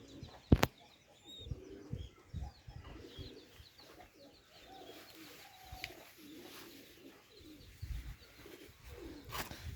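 High-flyer pigeon chicks and pigeons coo in low, repeated bubbling calls close by, with a sharp click near the start and occasional faint chirps and rustles.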